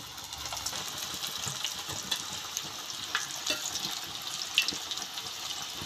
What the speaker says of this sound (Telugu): ఇలా డీప్ ఫ్రై కూడా చేసుకోవచ్చండి